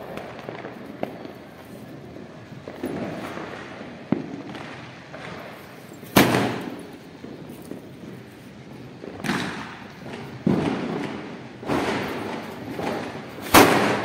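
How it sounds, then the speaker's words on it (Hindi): Diwali firecrackers and fireworks go off outdoors among city buildings: a series of sharp bangs and thumps at irregular intervals, several loud and close, over a steady crackling, rumbling background of distant celebration. "कभी जलाती नहीं है लेकिन आज पूरा जला रही है बम"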